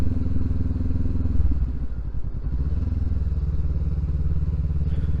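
A 2023 Honda CB500X engine drones steadily while riding, its pitch dipping and rising briefly mid-way with some wind buffeting. It is close and constant, with no talk.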